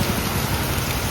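Steady rain falls in a dense, even hiss of drops, close and moderately loud for a brief moment, with no voices.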